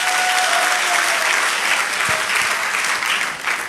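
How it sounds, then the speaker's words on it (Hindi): Loud, steady applause from a large audience at a motivational business seminar, dense clapping filling the whole stretch and tapering slightly at the end. "जोरदार तालियां होना चाहिए दोस्त"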